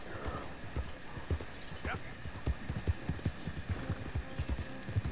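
Steady rhythmic clip-clop of horse hooves at a trot in Red Dead Redemption 2, close and continuous, with a faint hum beneath and a brief whinny-like tone midway.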